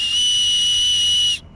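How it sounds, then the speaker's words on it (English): A survival whistle on a bracelet, blown in the woods, gives one continuous shrill, loud, close tone that holds steady for over a second and then stops abruptly. "Have a whistle on a survival bracelet, huh? If you're lost in the woods, don't just go,"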